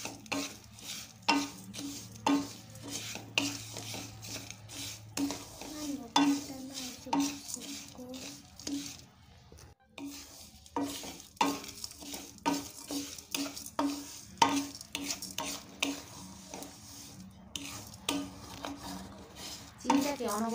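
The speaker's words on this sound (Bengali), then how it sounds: "দেখুন আমি কীভাবে চিনিটাকে গলাচ্ছি।" Sugar stirred and melting in ghee in a pan for sesame-peanut chikki, with a spoon scraping and knocking against the metal in a repeated rhythm over a faint sizzle, close up.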